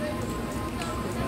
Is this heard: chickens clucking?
no